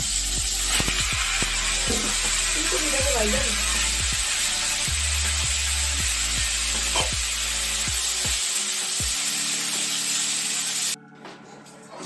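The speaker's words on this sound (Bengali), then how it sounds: "তো এই যে ফুলকপি ভাজা হয়ে গেছে" Cauliflower fries in a pan with a steady, bright sizzling hiss, broken by scattered clinks and scrapes of a utensil, until the sizzle cuts off abruptly near the end.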